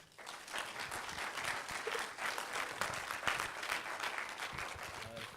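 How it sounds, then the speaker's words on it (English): Sustained applause from an audience for a panel at a cancer wellbeing session, steady and fairly even throughout, with a few murmuring voices mixed in. "could you clap this panel?"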